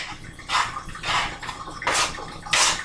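Water is poured into a cooking pot in several short, splashy bursts, four in all, evenly spaced and fairly close, with no talking.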